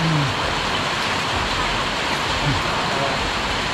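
Heavy rain pours steadily around a vehicle with a rooftop tent, a dense, loud, continuous hiss that stays even throughout, with no one speaking.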